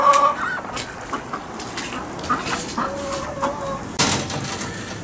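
Several chickens and geese cluck and honk intermittently, fairly close, against a soft outdoor background.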